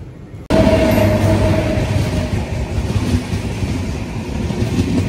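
A passenger train, the AP Sampark Kranti Express, bursts in suddenly at a railway crossover and keeps up a loud, continuous rumble and rattle of passing carriages, with a high whine running above it.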